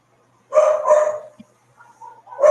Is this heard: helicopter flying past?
no